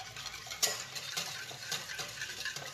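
A spoon stirs a yeast mixture of baker's yeast for baguette dough in a bowl, giving quiet, rhythmic scraping and clinking with one sharper knock near the start.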